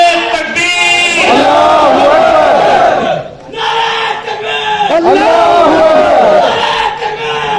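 A large crowd at a political party cadres conference roars the Takbir chant in loud, drawn-out unison, two long swelling waves of massed voices separated by a brief dip.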